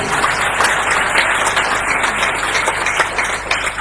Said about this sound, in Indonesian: Tepuk tangan yang meriah bagi Tuhan